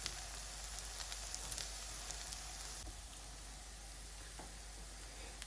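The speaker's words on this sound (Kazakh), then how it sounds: "5 минут қуырамыз" Potatoes fry in a pan with a steady, dense sizzle that holds close and even throughout, with faint crackles scattered over it and no voices.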